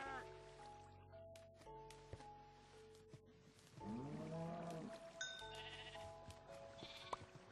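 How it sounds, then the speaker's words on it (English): Baby sheep bleating in the Minecraft video game, with several wavering bleats mid-clip over a busy background of game sounds and chimes, with someone talking over them. "I heard a baby sheep."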